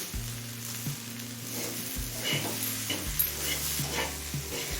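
Mixed vegetables sizzle steadily in a pan over a medium flame, with a continuous frying hiss and repeated scraping, stirring strokes of a spatula throughout, close and fairly loud with no talking.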